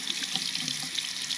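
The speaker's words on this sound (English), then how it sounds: "Usually just put it under the water and let all the dirt fall." Water runs steadily from a tap, rinsing loose soil off a small potted plant's roots, a constant splashing hiss with no speech.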